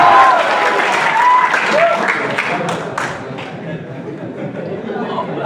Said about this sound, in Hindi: एक बार पुरजोर तालियां बजाएं